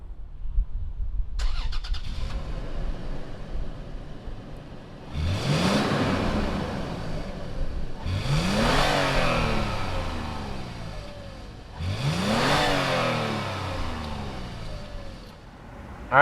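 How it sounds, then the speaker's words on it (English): A 2019 Toyota 4Runner TRD Pro engine fires up, then revs three times in succession, each rising and falling roar close by, with idle between, no talking. "we'll fire it up and see what does the 4Runner TRD Pro sound like"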